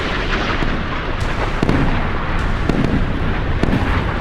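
Dense, rumbling missile explosions with sharp cracks layered over a loud, continuous roar of frigate battle noise in the naval video game Sea Power.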